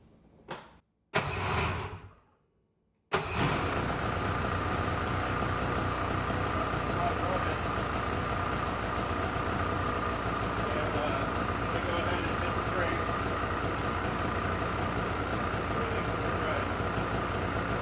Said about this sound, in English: I'm going to go ahead and fire this up, set you down here. I'll pick you back up, but I just want you to see what this looks like once this sled started